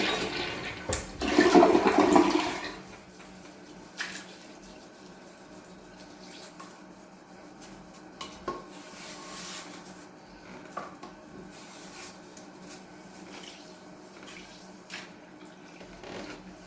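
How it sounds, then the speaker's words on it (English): A household toilet flushes with a loud rushing surge over the first few seconds, then settles into a quieter trickle as the tank refills, with faint rubbing sounds in a bathroom. "I want to flush that out real quick so I can do a good scrub of the inside."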